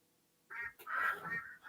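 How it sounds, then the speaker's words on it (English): Ducks quack in a short burst of several nasal calls, moderately close and fairly faint, with no talking. "He's trying to catch the ducks."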